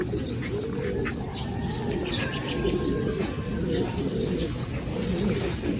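A racing pigeon named Grizzle arriving at the loft during a hot summer race, with soft coos, chirps and a flutter of wings over steady outdoor background noise.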